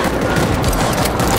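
A stationary machine gun in World War Z roars in one continuous loud rapid-fire stream, close and steady for the whole moment, with no talk over it.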